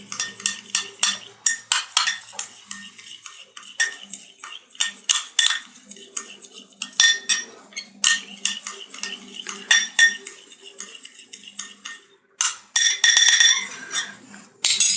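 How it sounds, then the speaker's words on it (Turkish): A spoon stirs one and a half dessert spoons of instant coffee into a little water, giving quick, close metallic clinks and scrapes against the cup in uneven bursts that run throughout, with a denser flurry near the end. "Kahvemi suyla karıştırıyorum."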